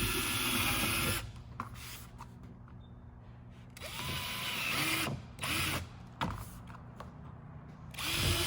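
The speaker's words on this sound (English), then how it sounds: "I'm going to drill 4 holes here, here, here, and here, and those are going to be rivet holes" A drill bores rivet holes in a small sheet-metal turkey box, with short whirring bursts and gaps of quiet between them, close and moderately loud.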